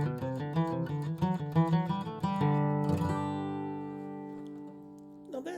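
Guitar melody picked note by note with no hammer-ons, a steady run of clear plucked notes that ends on a long ringing chord fading out, then a brief final strum.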